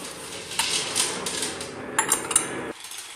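Dough for a Swedish lemon tart being mixed in a bowl, with a utensil clinking and scraping against the sides in quick uneven strokes, close and moderately loud, ending abruptly.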